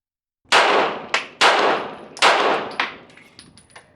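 A 1911/2011 pistol, unsuppressed, fires Sig Sauer subsonic 9mm rounds: three loud, sharp shots about a second apart, each followed by a metallic clang and ringing echo, then fainter clinks as it dies away.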